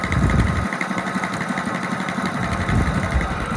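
A car engine drones steadily as a learner driver lifts the clutch in second gear and pulls away, the rough, busy engine noise mixed with road and cabin rumble.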